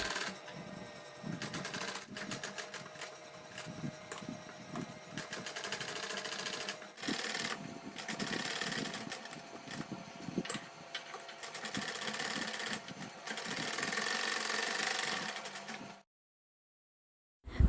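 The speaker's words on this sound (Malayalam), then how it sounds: "ഒരു കാലിഞ്ച് വീതിയിൽ നമുക്ക് തയ്യൽ തുമ്പ് വെച്ചിട്ട് ഇതുപോലെ സ്റ്റിച്ച് ചെയ്ത് കൊടുക്കുകയെന്ന് വേണ്ടേ" A sewing machine stitches a saree blouse, running in a steady rapid mechanical chatter for about sixteen seconds with brief pauses and speed changes, close and loud, then stopping abruptly.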